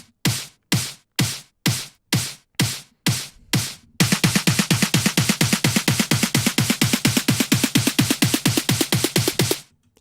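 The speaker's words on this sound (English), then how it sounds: "we're going to start with this really basic clap and snare buildup thing I found." A basic Melbourne bounce clap and snare buildup: eight spaced, punchy hits give way to a rapid, accelerating roll of snare and clap strikes that runs loud and dense for about six seconds, then cuts off.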